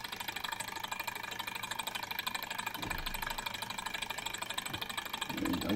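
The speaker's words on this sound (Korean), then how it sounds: "이쪽 스털링 엔진 같은 경우에는 뜨거운 물 가지고도 이렇게 돌아갈 수 있는 장치예요" Small Stirling engine running, driven by heat from hot water, making a steady fast mechanical whir with a faint rattling pulse, close and even, with a couple of brief knocks near the end.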